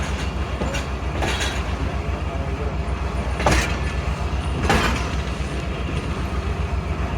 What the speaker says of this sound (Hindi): ट्रेन को आराम से गुजारा जा रहा है।